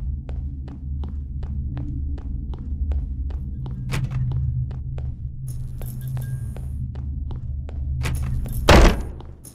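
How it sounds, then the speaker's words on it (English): A door thuds shut behind the player in the horror video game Dollmare, a single loud, heavy impact near the end, following a steady rhythm of soft, heartbeat-like thumps over a low ambient drone. "Just the door behind me closing,"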